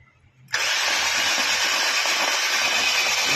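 A flooded Honda Civic FB 1.8 automatic cranks and catches at about half a second, then runs as a loud, steady, rough engine roar that fills the rest of the clip.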